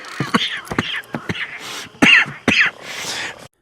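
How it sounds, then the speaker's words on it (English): Several harsh, wet coughs and throat-clearing hacks from a character in the video game Red Dead Redemption, in a ragged sequence, close and fairly loud, ending in a longer raspy breath. "That cough doesn't sound good, Arthur."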